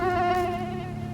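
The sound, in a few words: mosquito buzzing, played as a sound effect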